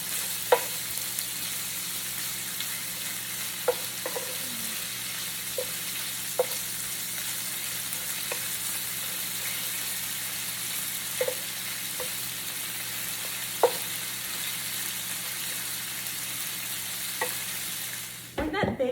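Bacon frying in an old pan from the late 1960s, giving a steady, close sizzling hiss with scattered small pops and occasional scrapes, no voices.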